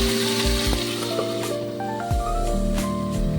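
Chicken sizzling in a frying pan for a chicken pasta, with salt being added, a steady close hiss and crackle broken by a few clinks and stirring knocks.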